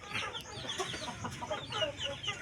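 Chickens in a small backyard poultry pen cluck and chirp repeatedly at close to mid distance, soft overlapping calls over a low ambient background.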